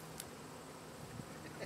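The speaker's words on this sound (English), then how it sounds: "Well, I can probably get the bees if I go closer." A July honeybee swarm being gathered by hand into a box gives off a faint, steady droning hum, with a few soft knocks and rustles.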